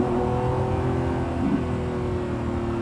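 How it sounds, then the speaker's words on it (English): A Lamborghini Revuelto engine roars steadily at high revs, loud and close, with a droning tone throughout. "So as I drive again, you know, a very, very good sounding car."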